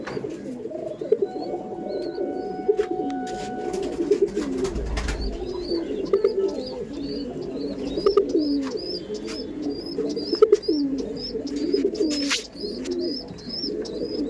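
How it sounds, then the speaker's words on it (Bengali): Trained pigeons in a home loft in Howrah coo continuously in low, rolling phrases, with light chirps and occasional wing or perch knocks, close and steady with no talking. "আর পায়রা এত সুন্দর ট্রেন করা দরজা খুলে রাখলেও পায়রা বেরোবে না"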